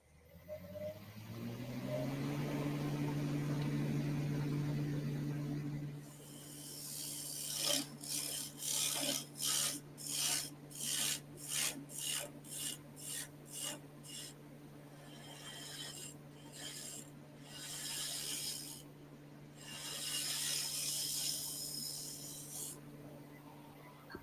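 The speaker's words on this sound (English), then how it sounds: "This does create quite the fan noise because it is square." A wood lathe motor hums and spins up with a whooshing drone, a square workpiece creating fan noise, followed by a run of rhythmic rasping cuts against spinning wood, fairly faint.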